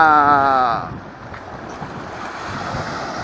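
Wind rushes across the Little Baywalk shore in Calamba as a steady, breathy roar with a soft lapping of water, following a brief voice at the start.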